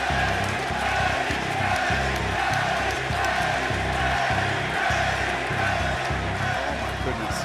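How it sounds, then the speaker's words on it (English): A packed arena crowd at an AEW wrestling match roars and stomps, a loud, continuous wall of cheering with a pulsing rhythmic beat running through it, without clear speech. "everybody in the crowd is on their feet because they believe it"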